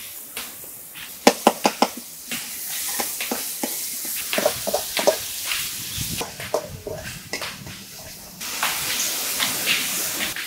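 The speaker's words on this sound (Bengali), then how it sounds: "এখন আমি রসুন আর আদা বাটা দিয়ে দেব।" Garlic and ginger paste goes into hot oil with browned chopped onions, bringing sharp spoon knocks and clicks first, then a rising crackling sizzle with stirring that grows louder toward the end.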